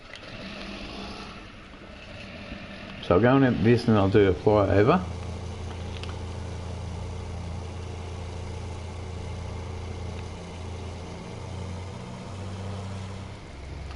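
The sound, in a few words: tractor engine in Farming Simulator 19 video game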